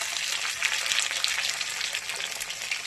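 Chopped tomatoes hit browned onions in a hot pan, setting off a steady, bright sizzle of frying that stays close and continuous without pause.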